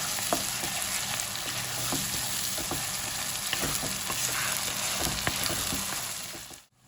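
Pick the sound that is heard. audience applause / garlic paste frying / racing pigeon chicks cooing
garlic paste frying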